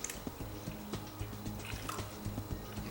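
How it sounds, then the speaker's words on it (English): Excess water poured out of a bowl, a faint wet trickling and dripping with small splashes and squishes, quiet and close, no voices. "I'm going to pour out some of the extra water because it's a bit much of the water"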